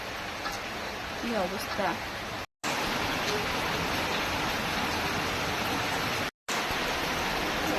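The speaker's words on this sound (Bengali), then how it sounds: "এত জোরে বৃষ্টি হচ্ছে" Heavy rain pours down in a dense, steady roar, loud and close, cut by two brief dropouts; a voice speaks briefly near the start.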